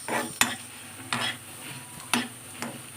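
Cumin and fenugreek seeds, with mustard seeds, being dry-roasted and stirred in a hot pan, with soft scraping sweeps and four sharp taps of a spoon against the metal over a faint sizzle.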